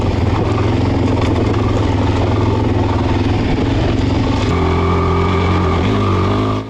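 Loud, close engine of a Suzuki DRZ400 motorcycle ridden through the Mojave desert, holding a steady drone, then shifting pitch as it revs and changes speed near the end before cutting off abruptly.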